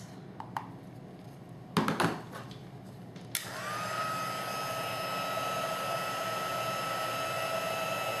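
A heat tool blasts clear embossing powder on a freshly stamped image, starting after a few light knocks and taps and then running as a steady, loud, even whoosh with a faint high whine to the end.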